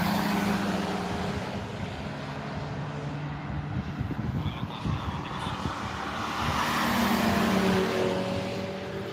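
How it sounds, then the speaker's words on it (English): A Renault 5 Turbo and a Ford GT Project 8 race past one behind the other at the Nürburgring, engine roar swelling and fading from a moderate distance over steady outdoor noise. "Renault 5 Turbo and the Project 8, one next to behind each other"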